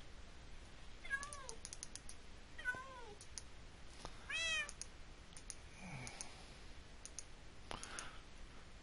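Cats meowing in Minecraft, several short separate meows spread across the stretch with quiet gaps, fairly clear over a faint steady background and a few light clicks.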